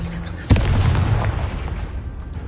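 A Confringo blasting spell explodes in Hogwarts Legacy with a sudden loud, close boom, followed by a rumbling tail that fades over a couple of seconds.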